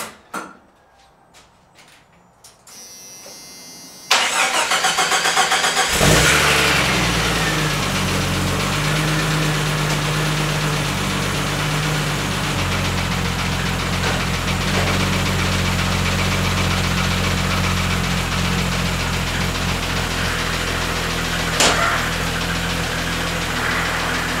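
A vehicle engine starting before a test drive after final axle assembly: brief quiet clicks, then a cranking catch that settles into a loud, steady, rumbling idle with a knocking edge, close by and without talk.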